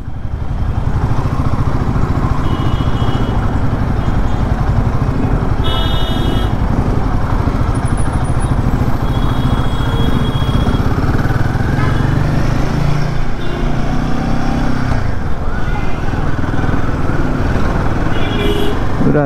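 A Royal Enfield Himalayan 450 motorcycle engine drones steadily while riding, with constant wind rush and road noise throughout and no pauses.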